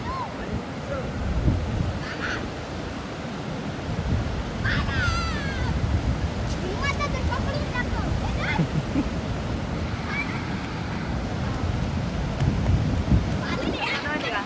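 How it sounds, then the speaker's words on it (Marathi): Ocean waves wash in continuously along the Malvan coast, a broad rushing surge with wind buffeting the microphone and faint voices or calls breaking through now and then. "तिथे लाटा मध्येच येतात बघ ना."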